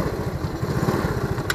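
A motorcycle engine runs steadily while riding on an Indonesian ride before breaking the fast, a continuous pulsing low rumble close by with no talk, brief and even throughout.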